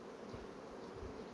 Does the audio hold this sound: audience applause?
no